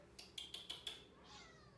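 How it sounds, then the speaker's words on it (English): A cat gives a quick run of five short, faint meows, evenly spaced and fairly close, followed by a softer drawn-out sound in a quiet room. "I know what that meow means."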